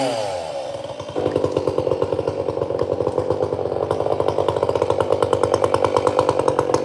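A chainsaw cuts into wood, its engine leaping to a loud, steady, buzzing roar with a fast pulsing rhythm, close and continuous with no voices.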